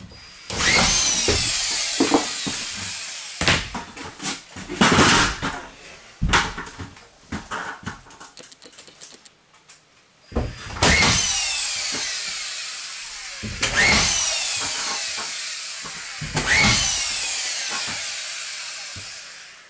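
Power drill driving screws into drywall board around the perimeter while boarding a closet, repeated bursts of rising whine with rattling clicks, several loud runs separated by pauses and handling noise.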